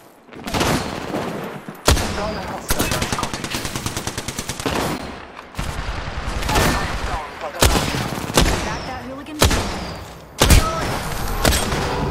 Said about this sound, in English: Fuck, being shot at! I'm taking fire!